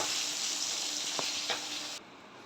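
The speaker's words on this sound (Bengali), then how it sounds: "ইলিশ মাছগুলো একটু কড়া করে ভেজে নেব" Hilsa fish fry crisp in hot oil, a close, continuous sizzle and crackle with a couple of brief sharper spatters, the sound thinning out near the end.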